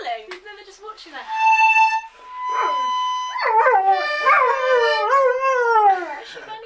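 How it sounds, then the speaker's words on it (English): A 28-day-old Labrador puppy howls in rising and falling wavering tones, joined by short yips and whimpers from its littermates, close and fairly loud with no talking. "Is she howling?"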